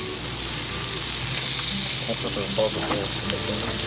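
Eggs frying in a pan at a campsite, a loud, constant sizzle with crackling pops. A voice murmurs faintly underneath.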